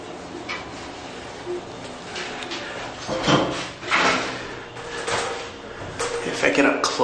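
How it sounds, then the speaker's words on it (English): A Dover hydraulic elevator door at Stockbridge Hall, UMass Amherst, gives irregular clunks and rattling knocks as it tries to operate, heard close under a person talking. "Door doesn't close when we push the button."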